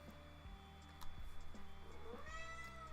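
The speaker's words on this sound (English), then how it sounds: "You guys hear my cat? He likes going into the kitchen and screaming" A cat yowls from a kitchen, drawn-out wavering cries rising and falling several times, faint and somewhat distant over a quiet background with light ticking.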